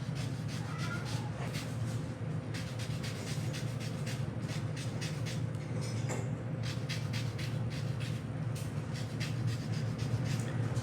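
Lemon peel for vegan crinkle cookies is grated in quick repeated rasping strokes, near and steady, over a constant low background hum.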